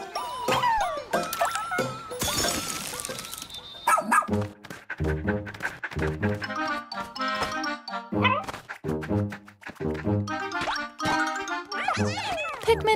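The rescue pup Ochi barks in the video game Pikmin 4, sharp cartoon yips scattered among bouncy boings, jingles and plops, with a narrator speaking over much of it.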